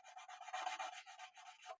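Abrasive sanding on guitar frets during spot leveling, a steady rhythmic rubbing and scraping in back-and-forth strokes, close and fairly quiet, stopping abruptly near the end.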